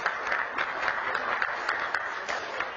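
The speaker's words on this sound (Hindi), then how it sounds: "एक जोरदार तालियों से स्वामी जी का" At a Hindu center gathering, an audience applauds to welcome Swami Ji, a steady, moderately distant clapping that runs through the whole moment without speech.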